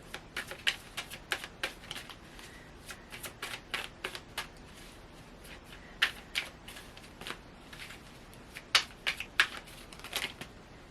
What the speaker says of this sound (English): I do want to draw a couple clarifier cards here.